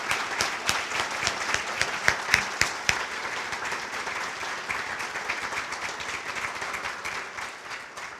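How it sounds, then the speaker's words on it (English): An audience applauding students at a medical school academic building dedication, dense sustained clapping from a crowd that slowly thins out toward the end. "I would like for us to give all of our students in the building a round of applause."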